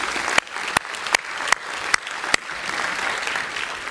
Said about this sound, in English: let me then ask everybody to join me in a round of applause for our first round of panelists